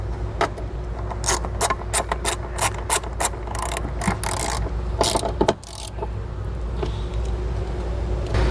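A ratchet wrench tightens a ground bolt holding a wiring ring terminal on a 2014 Acura MDX, giving a rapid series of sharp metallic clicks in bursts over a steady low rumble.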